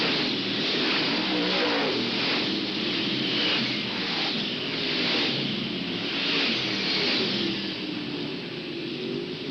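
Race cars roaring around the dirt oval at Hales Corners Speedway in 1995, a continuous loud engine drone with swelling and fading passes, heard under a commentator's talk.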